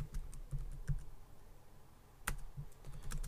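Someone types a search on a computer keyboard, a brisk run of light key clicks that pauses briefly and resumes with a louder tap and further quick keystrokes, close by with no voice.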